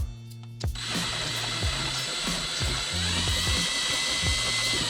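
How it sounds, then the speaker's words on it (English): A power drill whines steadily and close by while drilling a hole in car parts for a fuel gauge install, its motor pitch shifting slightly as it bites into material, running almost continuously with brief dips. "And then drill this hole."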